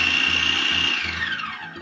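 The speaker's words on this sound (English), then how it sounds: "transfer the ingredients into a blender" A kitchen blender whirs at high speed as it mixes salsa ingredients, a loud steady motor whine that starts to wind down toward the end, with no voices.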